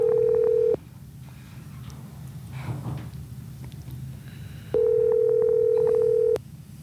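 Telephone call tones on a boat, a steady long tone opening the clip and returning near the end, with a quiet low rumble between.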